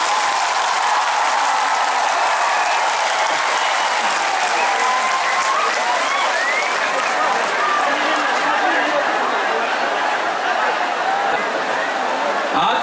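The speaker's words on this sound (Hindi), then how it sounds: "सबसे बड़ा ताली आपको होना चाहिए" A large crowd applauds steadily, a dense, roaring wash of clapping that stays loud and even throughout, with faint crowd noise mixed in.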